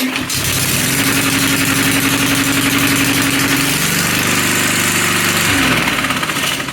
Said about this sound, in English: how to fix a mower that is incredibly loud, such as this one